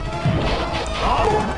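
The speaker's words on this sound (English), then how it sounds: "See how when you hit him it makes a metallic sound?" In the N64 fighting game Flying Dragon, a robot ninja takes a hit that lands as a loud, dense metallic smash, one short blow that fills the whole moment, no talking.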